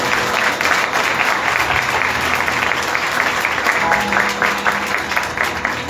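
Applause at a live worship gathering in Islamabad, a congregation clapping steadily and loudly for several seconds with some crowd murmur mixed in.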